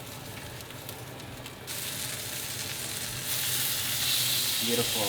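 Fish frying in garlic butter in a pan, a close sizzle that suddenly intensifies as the pan is moved, growing louder and hissier; a voice speaks briefly at the start.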